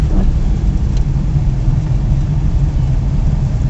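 A car driving slowly, at about 30, along a winter road, giving a loud, steady low rumble of engine and road noise heard from inside the cabin, with no clear speech over it.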